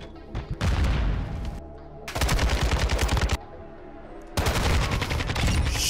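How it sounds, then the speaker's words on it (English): Rapid automatic gunfire bursts in Call of Duty DMZ, loud and close, coming in three heavy volleys separated by brief quieter gaps, with no talk over the shooting. "They're shooting through the stairs, again through the walls."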